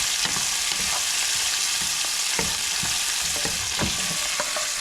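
Halved baby tomatoes frying and cooking down in a pan outdoors, a dense continuous sizzle with frequent crackling pops and spitting, close and loud, no talking.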